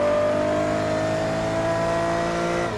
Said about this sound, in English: Hear that flat 12 engine go.